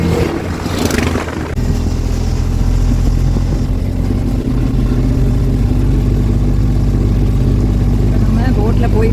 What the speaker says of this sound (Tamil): நம்ம போட்டில் போயிட்டுருக்கோம்.